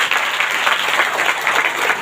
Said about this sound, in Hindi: जोरदार ताली से धन्यवाद